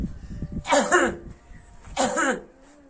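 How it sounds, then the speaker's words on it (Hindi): Two loud, forceful coughs about a second apart, close to the mic, over faint background noise. "आप खांसी करो जोर से"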